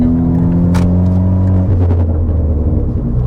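A 255 hp Ford Fiesta ST with Stage 2+ tuning accelerates hard, its engine droning loud and close with a strong steady tone that shifts partway through as the revs change.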